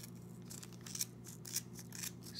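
Scissors snip through yarn wound on a Clover pom pom maker, a series of crisp close cuts with short pauses between them and no talking.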